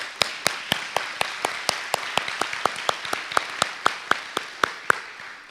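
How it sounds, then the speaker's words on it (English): Crisp, evenly spaced handclaps ring out at a steady rhythm of about four per second at a county government event, close and sharp, sounding more like a few hands than a full crowd. "They deserve a full round of applause."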